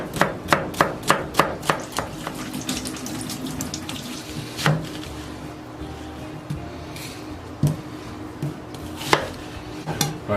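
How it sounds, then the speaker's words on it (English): A knife chopping onions strikes a cutting board in a quick steady run of chops, then slower scattered cuts, with water running faintly in the background. "Let's go back to chopping."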